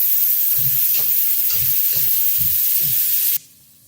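Chopped tomato sautés in a pan with ginger and garlic, a steady sizzle with rhythmic stirring scrapes about every half second, then the sizzle cuts off abruptly near the end.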